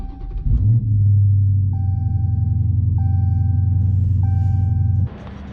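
Dodge Challenger SRT392 V8 starting up: a starter whir gives way to a loud, deep rumbling idle with a steady throb, while a chime beeps repeatedly over it, then the roar drops off near the end.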